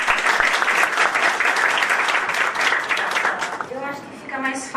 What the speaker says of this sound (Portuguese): Vocês não salvam de palmas para ela.